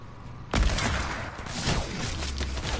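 A gun fires in a video game, a sudden loud burst followed by a dense rattle of shots close up.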